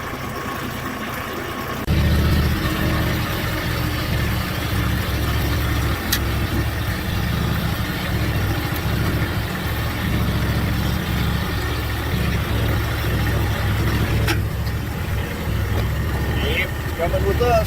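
A farm vehicle with a log puller drives uphill dragging a log, its mid-pitched engine kicking up loud after a short pause and holding a steady labouring drone to the end.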